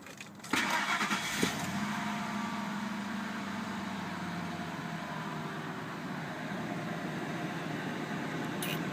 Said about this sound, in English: And as a traditional Ford product, starts right up.